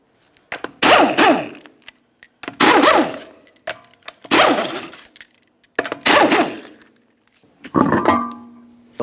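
Sharp metallic clinks and ratcheting bursts come as 19mm lug nuts are loosened and removed from a 2003-2007 Honda Accord front wheel, five distinct bursts spaced by quiet gaps, close and fairly loud.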